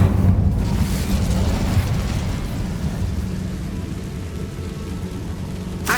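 The Incendio fire spell in Hogwarts Legacy bursts with a loud, rumbling roar of flame that flares at the start and then holds as a dense, crackling wash.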